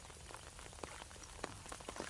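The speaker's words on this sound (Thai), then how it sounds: "ฝนก็ตก" Rain patters faintly and steadily beside a canal where a cast net is being thrown, with scattered soft drop ticks over a quiet, diffuse hiss.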